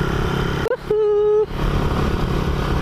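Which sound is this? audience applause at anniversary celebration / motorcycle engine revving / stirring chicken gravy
motorcycle engine revving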